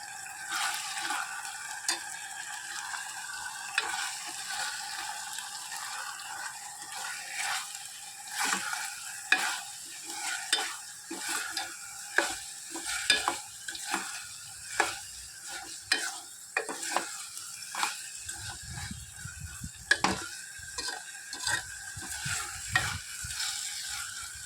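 Ginger garlic paste and green chillies frying in oil for an Andhra-style prawn and gongura curry, a soft sizzle broken by frequent clicking stirs and scrapes of a spoon against the pan, close and fairly quiet.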